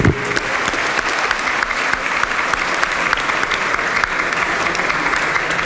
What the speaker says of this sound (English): If they would please rise and everybody give them a round of applause as well.